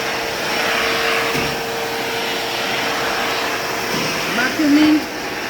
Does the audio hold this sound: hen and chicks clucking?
no